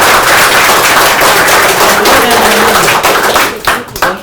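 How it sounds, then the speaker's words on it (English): Schoolchildren at a primary school in Kajiado North clap for their teacher, a loud, dense burst of many small hands that sustains for several seconds before breaking off into a few scattered claps at the end. "So let's clap for her."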